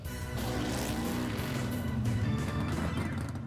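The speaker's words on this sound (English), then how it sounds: "That's a 1968 Superstock Race HEMI Dart" A 1968 Superstock HEMI Dart drag racing car roaring loudly and continuously for several seconds, a rough, heavy engine note with rising and shifting revs and no voices over it.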